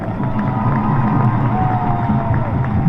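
An arena crowd at a Brest versus Dunkerque handball match that went to overtime cheers and applauds a player, a loud, dense, sustained roar with whoops rising over it.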